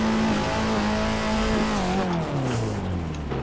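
Nissan S13 engine in the Assetto Corsa racing game, loud and close, held at high revs before the pitch drops steadily as the car decelerates, with faint tire noise.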